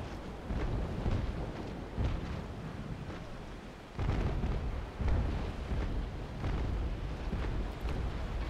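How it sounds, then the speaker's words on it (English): Cannon broadsides from sailing warships in the naval combat game Naval Action, a battle of three Bellona ships against Victory, roll out as continuous deep booming rumble with heavier bursts near 2, 4 and 5 seconds and no talk. "Another broadside. Yep, fire!"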